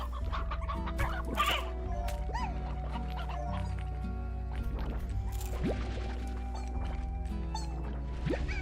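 Chickens in the video game Slime Rancher clucking repeatedly in a busy overlapping flock, scattered squawks and short calls over a steady low game hum and drips of liquid sound, no talk.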